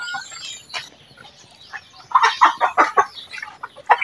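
One-month-old chicks in a simple brooder make a burst of loud, close peeps and chirps, irregular and overlapping, with quieter cheeps at the start.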